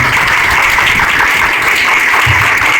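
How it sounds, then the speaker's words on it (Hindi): A classroom audience of students and a teacher clapping loudly at a Hindi Divas school event, a dense, steady burst of applause filling the whole moment without speech. "वर्ग और जो शिक्षिका है उनका जोरदार ताली बजाकर स्वागत करना है।"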